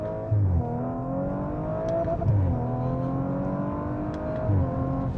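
An Audi RS4 Avant engine revving hard as it accelerates in first gear, the pitch climbing steeply then dropping at each gear change, loud and close.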